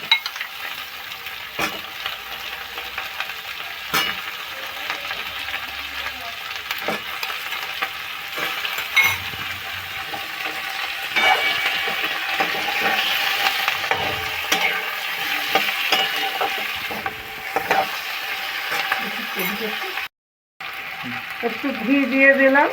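Chicken fries and gets stirred in a pan at home for chicken rice, a steady broadband sizzle with scraping stir strokes throughout, briefly cutting out near the end before resuming.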